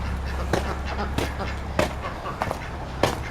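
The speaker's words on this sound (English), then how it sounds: "Oh, the ducks heard me finally." Ducks at a raised-bed organic garden give several sharp quacks, roughly once a second, close by over a low steady background, with a person talking nearby.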